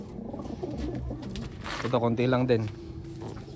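Pigeons coo in a soft, brief burst of throaty notes partway through, under a person speaking nearby.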